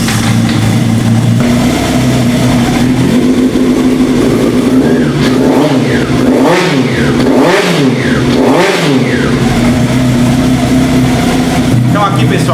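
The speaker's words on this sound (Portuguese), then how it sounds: "nós temos o motor trabalhando em marcha lenta" Honda CBX 750 motorcycle engine running at a steady idle, a loud continuous rumble with a few brief throttle blips midway, while someone talks over it.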